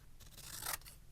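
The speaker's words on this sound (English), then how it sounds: "I'm going to create a bit of like a masterboard, where I'm going to cut pieces" Scissors snip through paper pieces for a patchwork-style masterboard on abstract floral junk journal tags, one brief close crisp cut with a sharp scraping edge, no talking.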